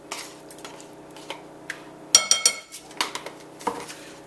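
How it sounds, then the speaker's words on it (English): A utensil clinks and scrapes against a bowl as sour cream and wet muffin ingredients are mixed, making close irregular taps that grow into a quick cluster of louder knocks. "Let's give that a good mix."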